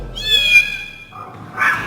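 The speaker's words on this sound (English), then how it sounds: "here you can actually play cat sounds on the exterior, or a dog sound, or a pig and so on" A cat meow plays from the exterior speaker of a Zeekr X electric car: one drawn-out synthetic meow, fairly loud and clear, followed by a brief noisy burst.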